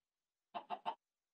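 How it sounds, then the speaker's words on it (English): A chicken in the Minecraft video game clucks three quick times in a short, even burst, close and clear against silence. "Hey, Chicky. Cluck, cluck, cluck."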